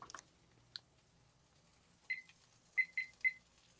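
Kitchen timer on a stove being set, a couple of faint clicks followed by a quick run of short high electronic beeps, close and clear in a quiet room.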